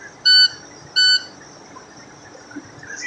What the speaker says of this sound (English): The alarm should be getting ready to go off in a second.